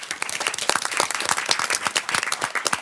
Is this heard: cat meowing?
no